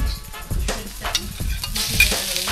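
Shrimp hit a hot pan and sizzle loudly up close, with crackling spatter and the scrape of stirring through the short burst.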